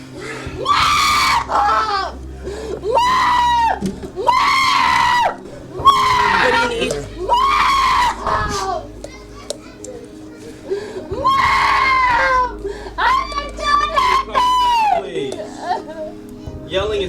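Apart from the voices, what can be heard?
woman yelling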